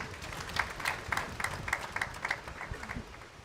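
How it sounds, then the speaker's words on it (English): Scattered applause from the audience at a private sector CEO retreat, faint and thin with loose individual claps rather than a full ovation. "I think he deserves a bigger round of applause"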